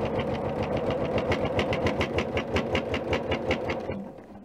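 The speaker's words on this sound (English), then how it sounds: "You'll hear the machine is actually a bit noisier now, and that's because it's trying to go through 6 layers of fabric and the wadding" A sewing machine stitching through six layers of quilted fabric and wadding runs in a fast, even rhythmic chatter close by, laboring steadily before slowing and stopping near the end.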